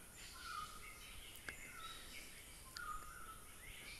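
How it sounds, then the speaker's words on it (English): Songbirds sing outdoors, soft chirps and short whistled calls scattered over a faint, hissy background with insects, all quiet and somewhat distant. "That's all you hear is birds."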